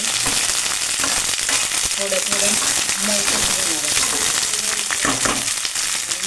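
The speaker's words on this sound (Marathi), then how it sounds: "त्या भाज्या सगळ्या मी फ्राय करून घेतल्या तेलात थोड्याशा" Vegetables fry in a little oil in a pan, a loud, continuous close sizzle with crackles and stirring, while someone talks over it.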